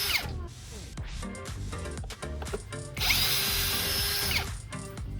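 A budget cordless power drill backs a screw out of wood at low speed, whirring in repeated short bursts with clicking and ratcheting, then a longer sustained whine near the end.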